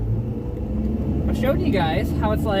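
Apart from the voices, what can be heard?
Ford Fox-body car with T5 manual transmission driving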